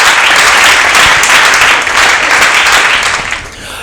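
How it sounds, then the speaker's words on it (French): Loud, dense applause from an audience honoring the president of group Les Leaders at a comedy show in Lubumbashi, a continuous roar of many hands that stays strong and tapers slightly at the close. "nous demandons encore une fois de plus de pouvoir applaudir très fort pour le président du groupe Les Leaders"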